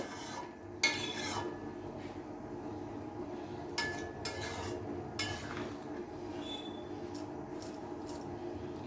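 Carrot halwa being stirred with milk in a pan on high flame, a utensil scraping and clinking against the metal in irregular bursts, close and fairly quiet, with no one talking.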